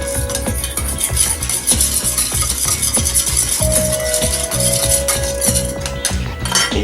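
Peppered steak with sauce stirred in a wok, with a metal utensil scraping and clinking against the pan in a steady rhythm over a soft sizzle, loud and close.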